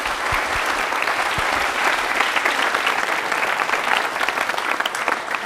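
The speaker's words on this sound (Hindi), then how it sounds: "भाई निखिल के लिए फिर एक बार तालियां जोरदार हो जाएं" Studio audience at a televised general knowledge quiz show breaks into loud, dense applause, a continuous wash of many hands clapping with no voices on top.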